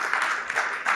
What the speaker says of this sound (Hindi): अपन अपनी जगह सब जने तालियां तालियां बजाओ